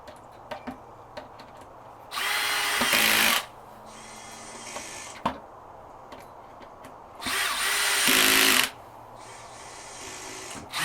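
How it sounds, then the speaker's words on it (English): Two bursts of a cordless drill driving screws while assembling a Miller Marine fillet table, each whirring for about a second, separated by quiet shuffling and small knocks. "just rounding down with the cordless drill"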